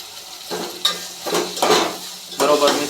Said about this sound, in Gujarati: શાક આવી રીતે વઘારે છે અને હવે પાણી નાખવાનું છે